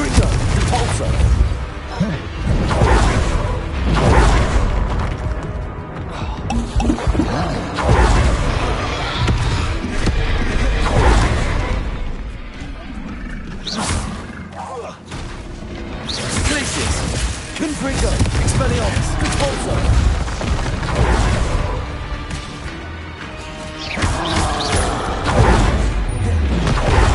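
Spell attacks cast in Hogwarts Legacy on the hardest difficulty, a dense, steady barrage of magical blasts, booms and impacts with heavy low rumble that runs throughout, busy combat effects layered over game music.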